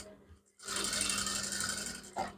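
A sewing machine stitches along a kameez neckline beside the fusing, starting after a short quiet pause and running in a steady close whir for about two seconds, with a small knock near the end.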